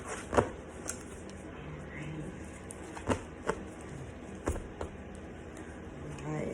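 A deck of tarot cards is shuffled by hand in a quiet room, giving scattered riffles and slaps at irregular intervals over a low background.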